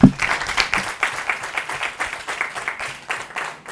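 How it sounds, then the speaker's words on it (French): Clapping from a children's school competition audience, a lively burst of hand claps that starts strong and continues in uneven pulses. "veuillez applaudir"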